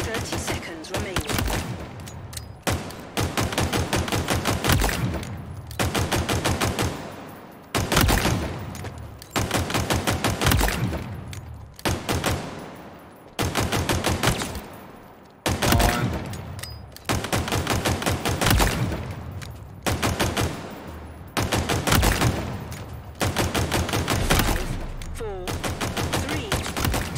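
Rapid pistol fire at shooting-range targets in a Halo video game, coming in loud, dense bursts of repeated shots split by short pauses, across a timed training exercise.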